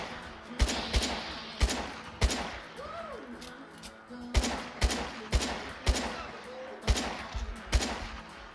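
Gunfire in the VR game Fallout 4 cracks out in sharp, loud single shots, first spaced apart and then in quicker rhythmic bursts, with a faint voice between them.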